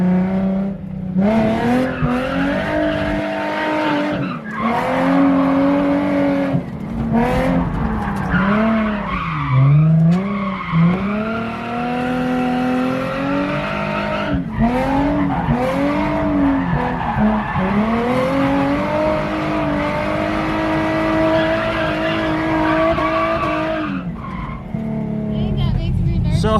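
A shared drift car on a track, its tires squealing and skidding continuously while the engine revs and wails in long rising and falling sweeps, loud and close for the whole stretch.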